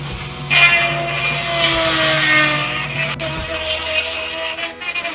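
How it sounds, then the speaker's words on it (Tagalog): A stock clutch part for a Honda Wave 125 clutch kit is trimmed down, giving a steady, close, abrasive grinding that holds for several seconds over a low mechanical hum, with no talk. "So ayan, magtatabas talaga tayo hanggang dito. Tingnan nyo paano natin tabasin yan."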